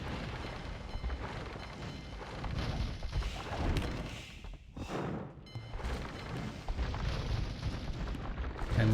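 In an Age of Empires-style naval battle, cannon galleons fire repeatedly, their deep booms and blasts landing irregularly over busy battle noise, moderately loud with no pauses.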